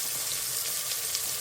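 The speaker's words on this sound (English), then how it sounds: "I'm just sweating the vegetables." Mirepoix vegetables sweat in olive oil with a small knob of butter, giving a dense, steady close sizzle with no pauses and no voices.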